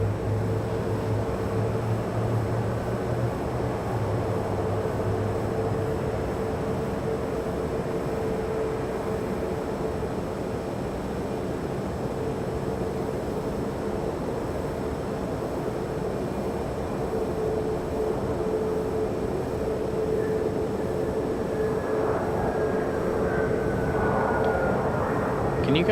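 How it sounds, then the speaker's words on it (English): An executive jet landing at Raleigh-Durham International Airport, a steady distant engine roar that fills the whole stretch, with a faint rising whine near the end. "Can you guys hear that exec jet landing?"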